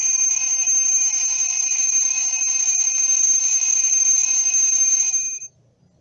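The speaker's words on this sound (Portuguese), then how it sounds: "Esse som é muito conhecido, não é? Quando nós estávamos precisando acordar cedo para a gente ir para a escola, esse som aqui às vezes tocava para nos acordar." An alarm clock rings loud and close with a steady, piercing metallic tone for over five seconds, then stops abruptly, leaving near silence.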